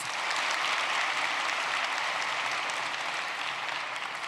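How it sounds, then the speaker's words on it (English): A graduation audience at the University High School Academy ceremony gives the graduates a sustained round of applause, dense, even clapping that fills the room without a break and with no voices over it. "Please give these amazing, brilliant minds another round of applause"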